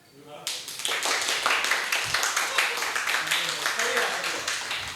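A crowd claps loudly and continuously after a brief quiet start, dense overlapping claps filling the space with voices mixed in.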